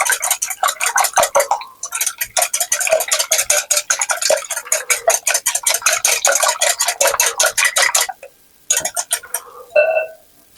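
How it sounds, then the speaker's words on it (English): Eggs being whisked in a bowl, a rapid, steady clicking of the whisk against the sides that runs for several seconds, pauses briefly, then resumes in a short final burst, close up with no talking. "Whisk my eggs"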